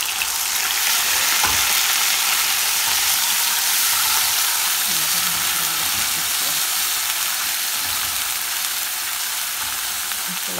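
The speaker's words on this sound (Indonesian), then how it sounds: "cabainya aku masak ya." Chili peppers for a dried beef balado frying in a pan give a loud, dense, even sizzle lasting about ten seconds, with occasional soft stirring scrapes and faint background sounds underneath.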